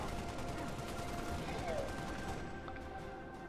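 Rapid gunfire from the twin-stick shooter video game Halo: Spartan Assault, a dense continuous rattle of shots holding steady at moderate loudness across the moment, with game sound effects layered in.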